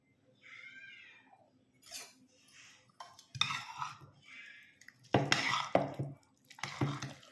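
A spoon stirs pongal in a pot at a home kitchen, giving soft scraping and clinking strokes in irregular bursts, with faint moist sloshing and a few quiet thuds between pauses.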